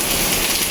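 Heavy monsoon-style rain pours down in a dense, loud, unbroken hiss close by for a brief moment. No one speaks over it.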